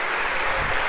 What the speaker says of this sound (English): One more round of applause if we could for our volunteers.